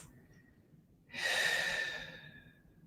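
A single long, slow breath during a held yoga pose, close and breathy, rising after a quiet start and fading gradually.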